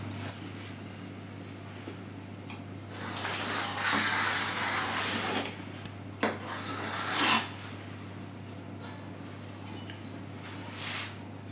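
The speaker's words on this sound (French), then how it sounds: "une fois qu'on a la bonne épaisseur de pâte, on va pouvoir découper nos disques de pâte." Repeated rasping scrapes of a cutter through rolled puff pastry as discs are cut for a galette des rois, rising in a few louder strokes over a constant low hum, with no talking.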